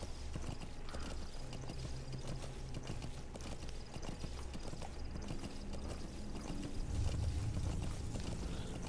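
Rhythmic clip-clop of horse hooves from the video game Metal Gear Solid V, steady trotting over a low ambient background, fairly quiet and continuous with no talking.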